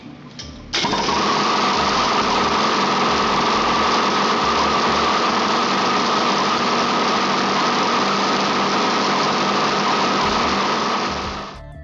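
A prototype rotary engine fires up and runs steadily, a loud, dense buzzing drone close by that holds for about ten seconds before cutting off, with no talk.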